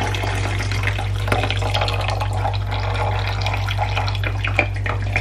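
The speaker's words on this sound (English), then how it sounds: "pour the coffee in." Freshly brewed coffee poured from a French press after the plunger is pressed down, a steady liquid trickle and splash running for several seconds over a constant low hum.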